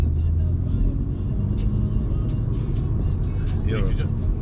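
BMW M140i hatchback driven on a public road, its engine note a steady close drone that rises slightly as it pulls, with a passenger and driver talking over the cabin noise.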